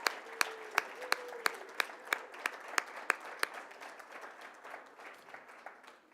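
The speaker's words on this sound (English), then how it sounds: "Let's give another round of applause," Scattered applause at a school Hispanic Heritage Month celebration, honoring high school students with 4.0 averages; sharp distinct claps at first, settling into a softer, thinning patter from a modest audience.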